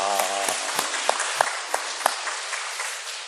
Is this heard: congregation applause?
yes